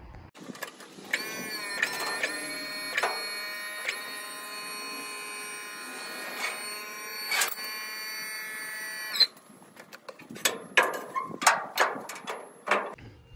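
An electric hydraulic pump on a homemade dump trailer whines steadily for several seconds with a strong motor hum, then cuts off and is followed by a series of irregular clunks and knocks.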